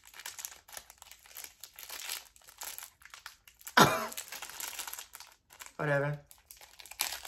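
Plastic packaging around chocolate-covered insects crinkles and rustles steadily close by, with a person speaking and a couple of short vocal bursts over it.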